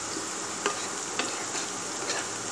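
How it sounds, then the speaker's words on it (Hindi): Chopped green chili frying in a pan for dhaba-style dal tadka with browned onion gives a steady, even sizzle with a few faint stirring clicks, close and continuous. "अच्छे से फ्राई होने देंगे।"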